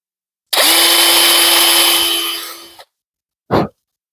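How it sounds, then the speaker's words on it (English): A power drill whirs loudly for about two seconds while drilling holes, winding down, then gives one short second burst. "Now I take the drill and I just drill these holes out real quick like."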